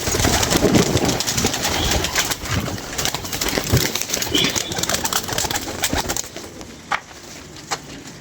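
Pigeons coo and rustle amid a busy outdoor noise bed in Lahore, with a couple of sharp knocks near the end.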